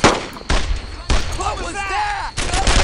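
Loud bursts of gunfire in the World War II shooter Brothers in Arms: Earned in Blood, arriving in three heavy volleys with a shouted voice between them.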